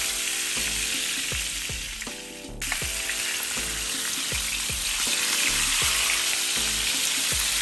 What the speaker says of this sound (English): The sizzling sear while the steak is cooking